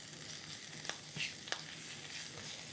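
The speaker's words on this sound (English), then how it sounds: "So when you do this with the onions and you sweat them down, they almost go sweet." Onions sweat in a frying pan for a gnocchi bake, a soft, even sizzle with a few light clicks from a utensil touching the pan.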